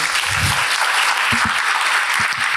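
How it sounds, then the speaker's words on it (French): Conference audience applauding the panelists, a thick, continuous wash of clapping that stays level throughout the short stretch, with a few low thumps underneath. "Vous pouvez les applaudir."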